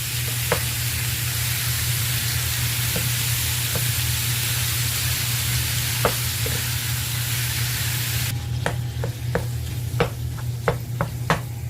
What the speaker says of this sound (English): you're just going to add all of your meat, and you are going to stab, and work your way in cooking that meat